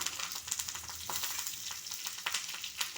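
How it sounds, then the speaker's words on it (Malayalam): Mustard seeds, chillies and curry leaves fry in hot oil for a mushroom stir-fry, giving a steady close sizzle broken by sharp pops and crackles throughout. "അതിലേക്ക് കടുകിട്ട്, പിന്നീട് അതിൻ്റെ കൂടെ തന്നെ അതിലേക്ക് മുളകിട്ട്, കറിവേപ്പിലയും ഇട്ട്"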